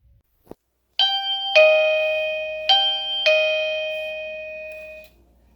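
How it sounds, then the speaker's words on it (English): A Wuloo intercom doorbell plays a multi-note electronic chime, four bright tonal strikes ringing out and sustaining for about four seconds after a brief click, close and clear with no talking. "You hit the doorbell."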